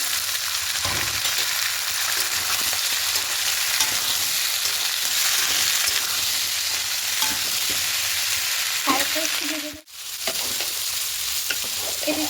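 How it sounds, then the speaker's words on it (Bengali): Vegetarian khichuri made with three kinds of dal fries in a pan after green peas go in. It makes a loud, continuous sizzle, broken by stirring scrapes and a brief dip near the end. "মটরশুঁটি দিয়ে দেবো"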